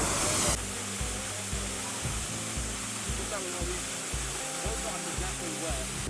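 A waterfall with a pool behind it rushes in a steady, loud, broadband roar that fills the whole stretch, with faint voices under the water noise.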